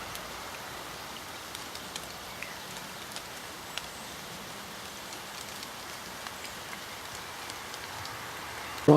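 Steady heavy rain hisses across the whole clip, dense and even, with scattered louder drops and a brief knock at the very end.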